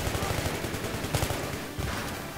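Dense, continuous automatic gunfire from a Battlefield 3 multiplayer Conquest match on a hardcore server, with rapid overlapping shots and bursts filling the whole clip loud and close.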